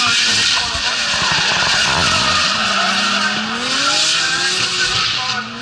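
Drift cars skidding at Tunerfest 2024, a loud sustained tire squeal over revving engines, with a commentator talking over the top.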